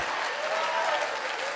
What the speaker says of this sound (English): Give the old man a round of applause.